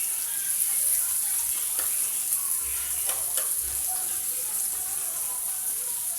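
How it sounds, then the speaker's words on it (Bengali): Food sizzles steadily while frying in hot oil until reddish-brown, a constant crackling hiss with occasional stirring, close up and with a voice speaking faintly underneath. "লাল লাল করে ভেজে নেবো"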